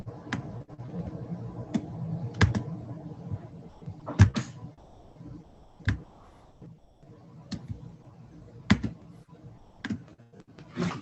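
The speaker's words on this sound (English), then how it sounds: "really pounding on their keyboard" Hard, scattered key strikes from someone pounding on a computer keyboard during an online lesson, a dozen or so sharp clicks in irregular bursts over a low murmur of background noise.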